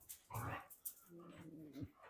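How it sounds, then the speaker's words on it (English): Dogs scuffle and whimper at close range during a computer build, with faint growling, yips and whining in a brief, quiet burst, and low voices faintly in the background. "As the dogs fight at our feet."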